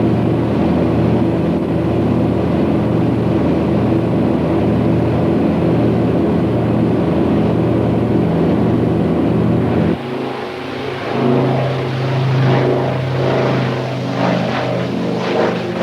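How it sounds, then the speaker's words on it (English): Bristol Freighter transport plane with Bristol Hercules radial engines, propellers roaring during takeoff: a loud, steady, throbbing drone for about ten seconds, then a shift to a rougher, more uneven engine roar. "The thunderous overture of her Hercules engines filling"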